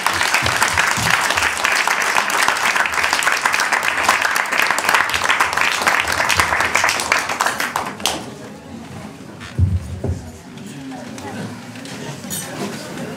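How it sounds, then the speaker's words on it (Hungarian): An audience at a Hungarian book talk applauds author Gagyi Ágnes, a dense, steady round of clapping for about eight seconds that then drops away to quiet room noise, with a brief thump and murmurs. "És akkor még egy nagy tapsot Gagyi Ágnesnek a könyvét."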